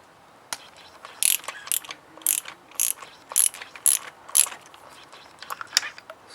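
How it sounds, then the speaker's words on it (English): Ratchet wrench on a 5/8 spark plug socket clicking in short repeated bursts while spark plugs are loosened from a 2011 Audi Q5 2.0 TFSI engine, close and crisp with pauses between strokes. "Now we're gonna take out the spark plugs."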